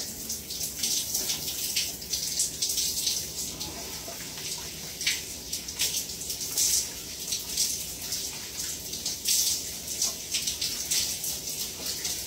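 Steady rushing water pours continuously, like a shower running, with a bright hiss and spattering that stays fairly even throughout.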